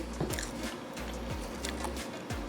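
Crunchy homemade caramel corn, made in a West Bend Stir Crazy popcorn machine, is chewed close up, with a few sharp bites and a steady crunching across a couple of seconds.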